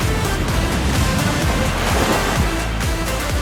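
Ocean surf rolling in at Laguna Beach, a steady loud wash of breaking waves with repeated low surges and wind noise across the microphone, no voices.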